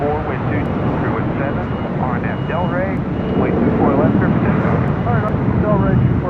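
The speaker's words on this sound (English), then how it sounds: "757-300, now rolling down to 5 right there on the south side." A Boeing 757-300 airliner rolls for takeoff on the south side of LAX, its engines a steady, loud broadband roar with a rising whine that stays constant throughout, heard alongside a voice talking over it.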